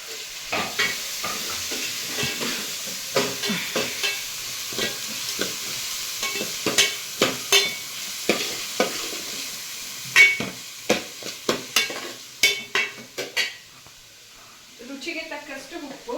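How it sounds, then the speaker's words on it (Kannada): Curry leaves and onion go into hot oil already flavoured with chilies, frying with a steady sizzle under a cook's talk while a spoon taps and scrapes the pan in irregular strokes, growing sharper near the end. "ಆಗ ಈಗ ಕರ್ಬೇ ಸೊಪ್ಪು ಈರುಳ್ಳಿ ಹಾಕೊಂಡ್ಬಿಡೋಣ."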